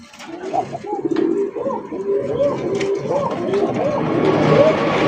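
Rajgolla pigeons coo repeatedly in a loft where eggs and chicks are kept, the soft rolling calls overlapping close by, with light background noise and faint voices.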